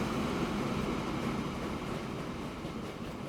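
A train rolling through a Transport Fever 2 rail network, a steady broadband rumble and hiss holding at an even level throughout with no talk.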